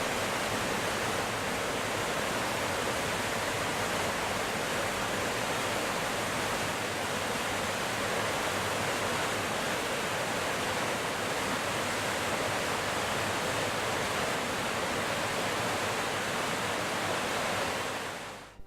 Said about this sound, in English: We stopped at Alder Creek to watch the rushing water.